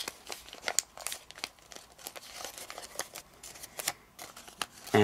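Origami paper folded and a flap tucked into a pocket while making a Paolo Bascetta Clic Clac fidget toy: close, crisp crinkles and papery creasing taps in quick irregular bursts, with no talk.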